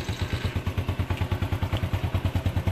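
A Demak EX90 motorcycle engine runs at a steady idle nearby, with a regular, rapid low thumping beat and a slight mechanical clatter throughout and no talk.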